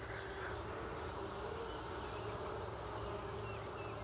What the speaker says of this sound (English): There's more bees in this hive.